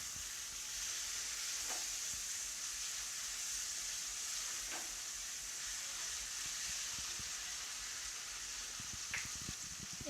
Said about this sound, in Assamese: আৰু এতিয়া কাটি থোৱা বিলাহীখিনি দিম। গোটেইখিনি ভালকৈ লৰাই ল'ব।